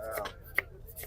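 Onions being cut at a stall in Kuchlak Bazaar, Quetta, make a few sharp knife taps on a board, close and brief, with a voice speaking at the start.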